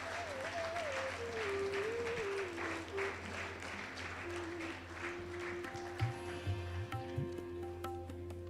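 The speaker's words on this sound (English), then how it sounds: "Big round of applause, please." An audience claps steadily for several seconds at a college foundation day celebration. The applause is dense and sustained, with a few louder individual claps and faint voices toward the end.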